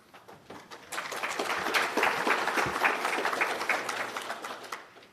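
A conference audience breaks into applause for the president of an amateur radio organization, scattered claps swelling into a moderate steady round before tapering off.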